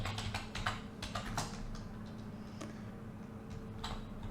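A slide title being typed on a computer keyboard: a run of quick, close, crisp key clicks in irregular bursts, thinning out partway through before a few last taps, with no talking.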